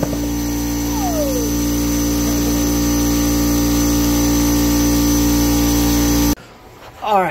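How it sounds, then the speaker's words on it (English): An air compressor in a garage where a 1965 Impala SS clutch is being replaced runs as a loud, constant droning hum with a steady mechanical tone, then cuts off near the end. "As soon as I turn this thing on, the compressor is going to turn on"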